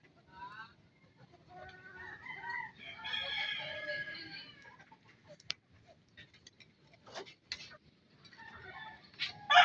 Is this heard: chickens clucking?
yes